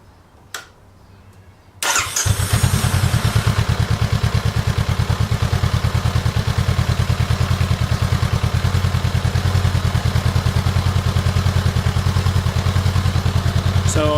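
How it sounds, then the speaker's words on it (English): A 2019 Honda CBR500R motorcycle with stock exhaust starts up and settles into a steady, loud idle with a rapid, even pulsing exhaust beat. "I'm going to show you what the stock exhaust sounds like"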